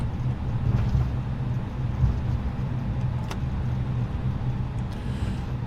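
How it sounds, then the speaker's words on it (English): Steady engine rumble of a fuel truck idling near an Airbus A320 in Microsoft Flight Simulator 2020, a continuous low drone with no distinct events, moderately loud and unbroken throughout. "Hello, fuel truck."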